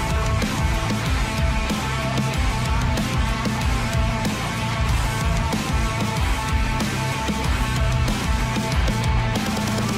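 Heavy, driving Wolfenstein 2 soundtrack track, dense and loud throughout with pounding low-end rhythm and layered distorted textures, no voices.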